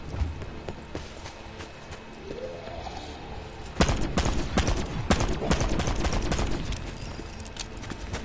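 Rapid gunfire from a zombies video game as targets are shot for a weapon upgrade, starting as scattered shots and then turning into dense bursts of repeated shots, loud and close, with steady game noise underneath.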